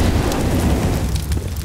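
A thrown incendiary grenade in a video game ignites with a loud, close, dense roaring crackle of fire, like a sustained rush of burning noise with no talking.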